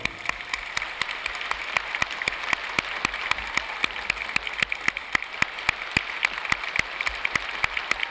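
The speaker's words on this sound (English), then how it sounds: "I want you to start clapping" A group clapping in a room, heard first person: a steady stream of sharp individual claps at an even, fairly quick pace, continuous and fairly close throughout.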